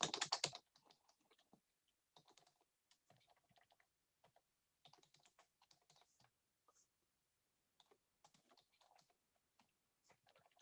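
Typing on a computer keyboard while sharing a Facebook post, with bursts of light, quick key clicks separated by short pauses, close and fairly quiet, opening with a louder clatter.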